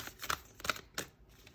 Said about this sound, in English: Look at me not being able to shuffle.